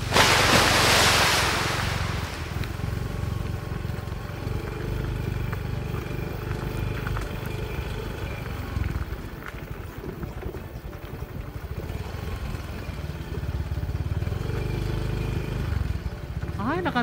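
A motorcycle ride with a tricycle following behind, heard as constant wind buffeting over a low engine rumble, loud and close throughout.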